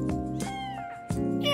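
A cat meows in an indie visual novel game, two drawn-out, tonal meows, loud and close, with a short gap between them and no talk.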